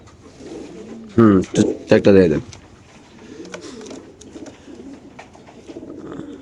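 Pigeons coo softly in the background while someone speaks loudly up close in a short burst of talk, then low cooing continues faintly.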